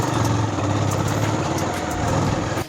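Motorcycle engine around ten years old running steadily close by, a throbbing mechanical drone with no talk.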